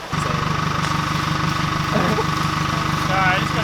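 A 4WD vehicle's engine idles and reverses at a steady, close, continuous rumble through a state forest, with a brief voice-like sound partway through and no clear speech.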